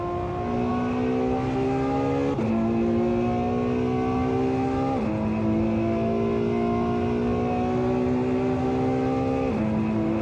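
A Ferrari engine revving in the racing game Assetto Corsa, a loud continuous drone rising in pitch through repeated gear shifts, each shift marked by a sudden drop and renewed climb.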